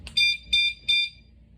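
A door alarm sensor beeps three times in quick succession as the lock button on its remote is pressed, each beep loud, shrill and close, with no talk.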